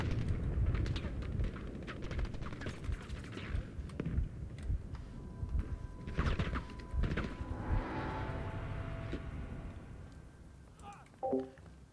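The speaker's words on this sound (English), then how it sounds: "In-game, when the little explosions go off." Explosions in Battlefield V gameplay go off as a string of sharp booms and crackling blasts, loud and scattered across the clip, with players talking over the action.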